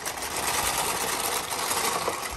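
A Bond knitting machine ribber carriage pushed across the needle bed gives a steady, dense mechanical clatter and rattle, loud and close, continuous without pauses, with no one talking.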